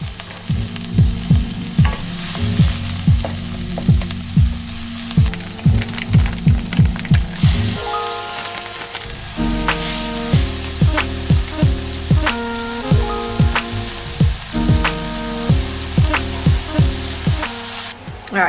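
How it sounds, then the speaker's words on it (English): Onions sautéing in a wide pan, with a steady loud sizzle and a regular rhythm of spatula scrapes and clacks running throughout, close and alone with no voices. "we'll saute the onions."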